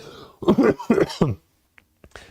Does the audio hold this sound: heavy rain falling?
no